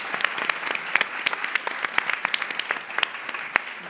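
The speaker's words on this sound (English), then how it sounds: "a round of applause to our panelists." Audience clapping for conference panelists on a stage at a humanitarian conference, a steady close round of applause with sharp individual claps throughout, no voices over it.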